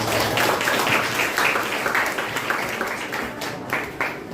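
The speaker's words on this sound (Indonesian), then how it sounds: "Iya, bagus, tepuk tangan untuk" Students clapping in a classroom, a fairly loud, close burst of hand claps with individual claps standing out, steady at first and gradually thinning and tapering toward the end.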